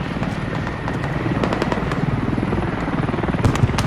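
A video-game helicopter with a smoking, damaged airframe, its rotor chopping in a steady rapid rhythm at moderate volume, with scattered crackling gunfire-like pops over it.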